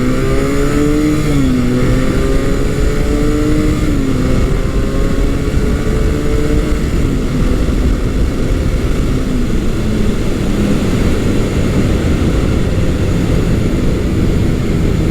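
A Honda CB400T Hawk engine accelerates on a cold-day road test, a loud continuous drone with engine pitch climbing and dropping through gear changes, with wind rush throughout.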